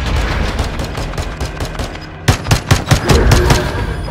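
Gunfire rings out from a village in Modern Warfare 2, starting as a dense background rattle, then a close series of sharp, loud shots fired in quick rhythmic succession.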